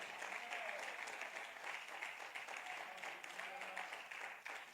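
A church congregation at a Sunday service applauds, a steady wash of many hands clapping that fills the room, with voices calling out faintly beneath it.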